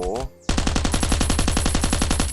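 Automatic gunfire in the shooter game Last Island Survival, a loud, rapid and steady burst of shots that runs to the end after a short tonal sound and a brief gap.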